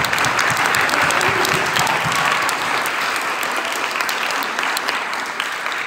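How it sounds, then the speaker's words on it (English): An audience at a spring concert breaks into loud, sustained applause, dense and continuous, easing slightly toward the end, with no speech over it. "And I want to give a great round of applause for Russ to make this all happen."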